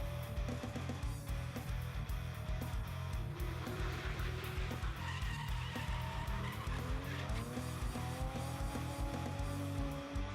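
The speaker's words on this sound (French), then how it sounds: "Les pneus crient leur souffrance sous les sollicitations extrêmes de ces 2 as du volant que sont Benjamin Boulbès et Laurent Cousin." Race car tires squealing under extreme driving in a motorsport contest, loud continuous screeching with rising and falling tones over a rumbling engine, sustained throughout without talk.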